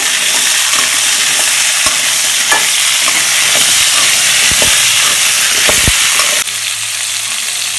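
Drumstick (moringa pod) pieces sizzle and hiss steadily in a hot pan, with occasional clicks and scrapes of stirring, close up; the sizzle drops quieter near the end.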